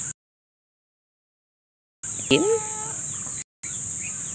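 Backyard farm chickens, with Muscovy ducks also kept, give a brief clucking call after a stretch of silence, set against a steady high insect buzz. The clip drops out briefly.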